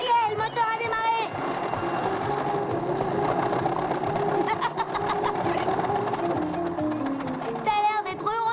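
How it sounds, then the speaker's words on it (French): An old engine runs steadily after starting, a low, even idling hum in a 1980 TV series scene, with voices heard briefly at the start and end. "Ça y est, le moteur a démarré."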